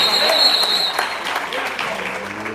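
A church congregation at an anniversary service applauds in a sustained, dense burst of clapping heard close, fading slightly toward the end.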